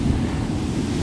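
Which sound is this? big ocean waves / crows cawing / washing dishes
big ocean waves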